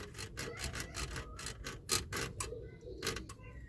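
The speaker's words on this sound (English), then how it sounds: "So I've got the tent pole in here, and I've got a little hacksaw, and I'm gonna try and slice it." A small hacksaw cuts through a tent pole clamped in a vise, giving a steady run of rhythmic rasping strokes, close and moderately loud with no talk.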